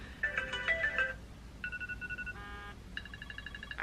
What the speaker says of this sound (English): If anybody has that as a ringtone, you need to change it.